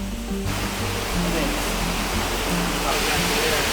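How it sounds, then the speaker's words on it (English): Rainwater pours and splashes steadily into a storm-damaged building under restoration, a dense, continuous rushing wash that stays loud throughout, with a low rumble and faint voices underneath. "Water's coming in there."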